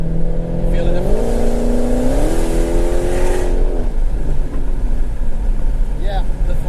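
A Dodge Hellcat accelerates out of a corner, its engine note climbing in pitch in a couple of steps before settling again, loud and close from inside the car over steady road noise.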